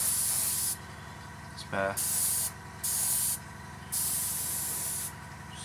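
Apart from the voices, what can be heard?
airbrush spraying paint on a Junkers Ju52 model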